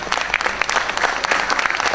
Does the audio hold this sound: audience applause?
yes